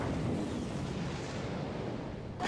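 Tank cannon shot in a war strategy game, heard as a long rumbling blast that fills the whole moment, with a sharp pop at the very end.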